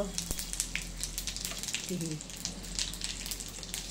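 Cumin seeds sizzle in hot oil, giving a close, crackling frying sound with scattered sharp pops over a low background hum.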